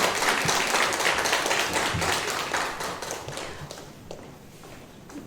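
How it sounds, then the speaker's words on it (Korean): Church congregation applauding during a Sunday afternoon worship service honoring a women's mission group, a steady patter of many hands that fades somewhat toward the end. "박수로 격려하겠습니다."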